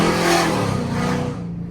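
A 5.7L HEMI V8 with long tube headers revs hard up close, its deep, raspy exhaust roar rising and then easing off as the throttle drops.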